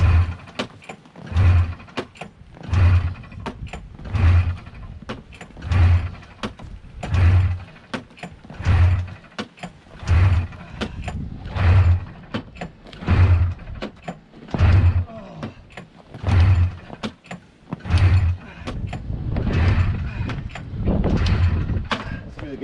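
A 1993 Arctic Cat Thundercat 900 engine is pull-started by hand with the choke on, giving a steady run of about a dozen rhythmic recoil pulls, each a short mechanical rasp, close and fairly loud, with no catch.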